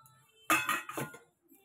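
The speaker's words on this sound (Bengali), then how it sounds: "কড়াইটা ধুয়ে নিচ্ছি।" Wok (kadai) being washed in a kitchen: a few sharp metallic clinks and rattles in a short burst, with a quiet moment before and after.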